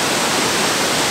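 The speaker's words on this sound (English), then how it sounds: "There it is behind me and it is absolutely pumping with water." Rain-swollen waterfall in Tasmania thundering with heavy flow, a loud, dense, steady rush of broadband noise with nothing else heard.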